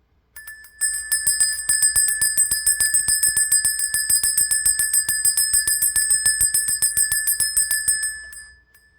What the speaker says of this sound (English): We're going to ring the bell in 1,